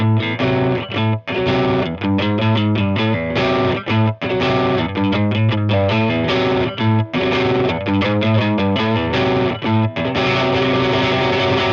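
A loud distorted electric guitar plays a chunky riff with palm-muted chugs and brief pauses, played steadily at a slow pace, with no voices.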